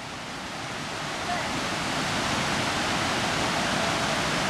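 River water flows steadily at Christmas Meadows, a loud continuous broadband rush close by that swells slightly at the start and then holds even.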